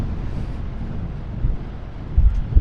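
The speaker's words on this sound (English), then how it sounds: "It's a little windy out here." Outdoor wind buffets the microphone beside a loaded flatbed truck and trailer, a continuous low, rumbling roar with a few stronger gusts toward the end.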